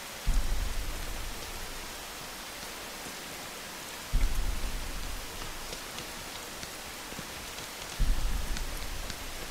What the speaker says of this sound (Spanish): Solo quedaba la lluvia, que ahora caía todavía con más fuerza,